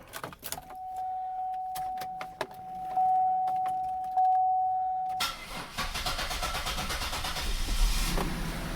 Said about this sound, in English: she started right up